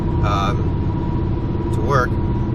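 A steady car engine drones from inside the cabin, with a couple of brief high tonal chirps over the road rumble.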